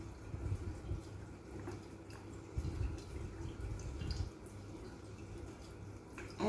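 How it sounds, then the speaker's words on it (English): Vodka glugs slowly from a liter bottle into a jar of lemons for limoncello, a soft uneven trickling and dripping of liquid that is fairly quiet and has no talking. "the only thing left to do is just to pour your bottle of vodka in"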